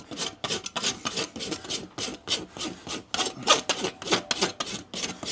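A farrier's rasp files down nail heads and excess hoof on a racing Shetland pony, giving a steady run of close, rough rasping strokes in quick rhythm with no talk.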